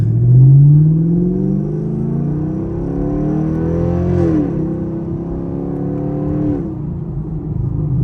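A catless Camaro SS accelerating hard at night, its loud, deep exhaust climbing in pitch through a gear, then a quick shift and another rising pull, heard up close from inside the car.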